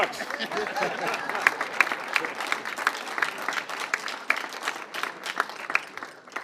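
A crowd claps steadily at an outdoor development announcement in Ferguson, with a voice and some chatter running over the clapping throughout.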